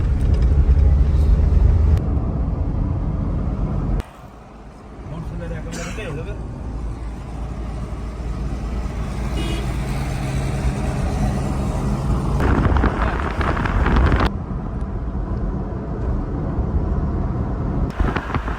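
A car driving along a road in Karachi gives a continuous low engine and road rumble with a few shifts in loudness, heard under steady conversation among the occupants.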